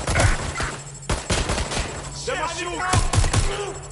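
Gunfire in Watch Dogs Legion comes as several sharp bursts of shots spread across the moment, mixed with shouted voices and other game sounds.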